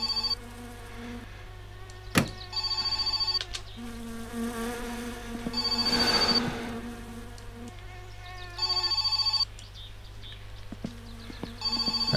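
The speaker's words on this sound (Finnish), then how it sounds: "Joku soittaa." Telephone ringing in the video game My Summer Car, repeated electronic ring bursts over a steady low hum, with a sharp click and rustle in between.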